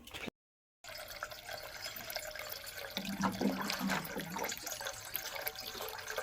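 Tap water running into a saucepan to fill it, a steady soft rushing stream after a brief gap, with the pitch shifting slightly as the pan fills and faint background noise beneath.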